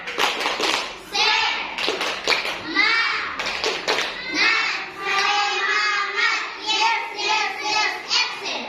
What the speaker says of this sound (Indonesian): Kita beri tepuk semangat dulu buat kelompok yang lain ya.